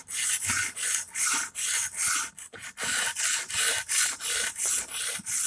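An Emerson Karambit tanto blade with a chisel grind is drawn across a sharpening stone in steady, loud rasping strokes, about a dozen rhythmic back-and-forth passes with brief pauses.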